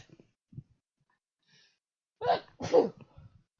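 Two sharp sneezes in quick succession, close and abrupt, preceded by a few faint breaths and small noises.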